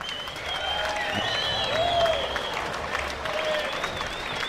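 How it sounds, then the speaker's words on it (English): Crowd applause and cheering at a boxing fight event as the referee brings two fighters to the centre, a sustained wash of clapping with whistles and shouts rising over it. "give them a big round of applause"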